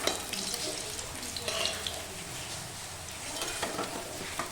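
Bata fish fry in a pan with a soft, steady sizzle of oil, broken by faint scraping and stirring clicks at close range, with no talking.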